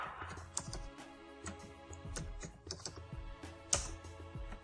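Computer keyboard typing in a Photoshop design session, a close run of irregular clicks and key taps with a few louder strokes, with no talk.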